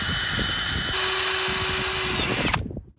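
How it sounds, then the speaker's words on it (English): A power drill whirs steadily with a bright, harsh scratching of a soft brass wire wheel cleaning outboard motor metal, running continuously before spinning down near the end. "I've got a real soft brass wire wheel here on the drill"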